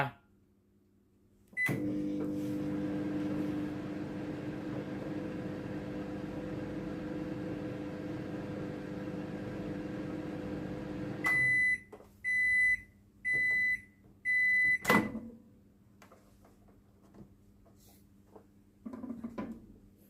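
A Sharp R-2121FG microwave oven, repaired after failing to heat, hums steadily for several seconds while heating water, then stops and beeps four times in a regular sequence, followed by a click.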